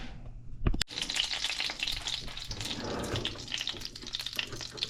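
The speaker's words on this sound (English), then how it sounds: "Now that my oil is heated and making all sorts of sounds here" Avocado oil and butter sizzle steadily in a hot pan, a dense close crackling hiss that runs throughout after a brief knock near the start.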